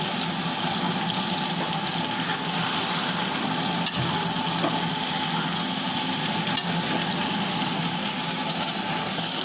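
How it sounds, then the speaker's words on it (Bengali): Fried onions in a pan with water added, cooking for a fish curry, giving a steady, even hiss that runs unbroken throughout, with a couple of faint knocks. "এখানে আমি পেঁয়াজ ভেজে পানি দিয়ে দিয়েছি যেন শব্দটা কম হয়"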